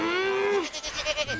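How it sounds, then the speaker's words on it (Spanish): A single drawn-out sheep bleat from a paper-doll cartoon, loud and close for about half a second, then trailing into quieter, wavering calls. "Raquel y Elsa van a salvar a las ovejas"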